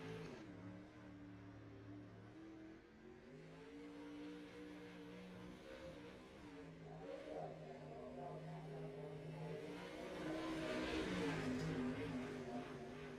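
Several race cars lapping a short oval track during timed laps, engines droning steadily and swelling louder toward the end as cars pass nearer, with no talk over the noise.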